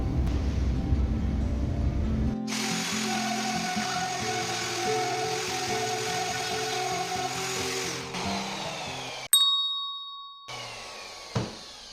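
Wood router cutting a first clearing groove for a sliding dovetail in a bookcase panel, a loud steady whine that runs for several seconds, then cuts off and winds down with clanks.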